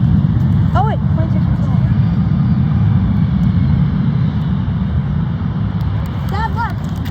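Airport ambience as an Airbus A320 taxis, a steady loud engine roar filling the whole stretch with brief higher whines near the start and end, and people talking over it.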